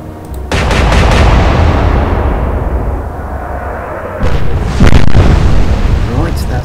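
Heavy naval guns boom in the Atlantic Fleet video game during a battle with the Königsberg, a loud blast followed by a long rumbling tail, then a second sharper impact as shells strike the ship's superstructure.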